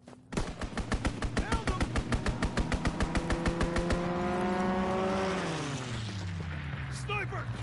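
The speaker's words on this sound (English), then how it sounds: "Enemy strafing run incoming!" Machine gun fire from an enemy strafing run in Call of Duty WWII rattles in a rapid, even burst for about four seconds, then an aircraft engine swells and drops in pitch as it passes overhead, with voices shouting.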